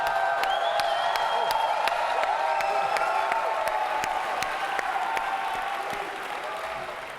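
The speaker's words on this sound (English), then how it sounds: "They're just going to keep cheering." A theater audience at The International 2018 Dota 2 main event in the Queen Elizabeth Theatre cheers and applauds loudly and continuously, with sharp whoops and claps that fade slightly toward the end.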